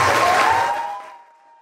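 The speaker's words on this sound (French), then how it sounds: "Monsieur Martin-Paul Minjos Momeni, que je vous prie d'applaudir." Applause from an audience at a Cameroonian award ceremony for managerial excellence, a dense burst of clapping that starts loud and fades out over about a second and a half, with a faint tone lingering at the end.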